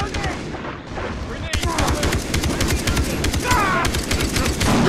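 Rapid bursts of automatic gunfire from the Far Cry 3 co-op shooter, loud and continuous with overlapping shots, while players shout over the action.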